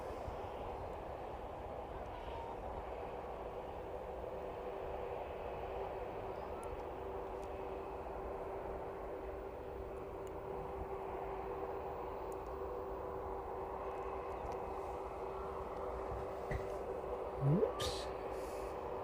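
A Ryanair passenger jet at East Midlands Airport, a steady distant engine drone and whine holding level throughout, with a brief louder rise near the end.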